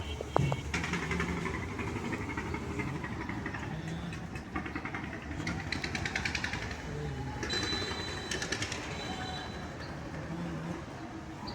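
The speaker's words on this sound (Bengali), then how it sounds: "বাইরে ট্রলারের ইঞ্জিন চলছে তাই শব্দ হচ্ছে" A trawler engine runs outside a river passenger launch, a steady low rumbling drone with some mechanical rattle, fairly faint, with a voice speaking over it.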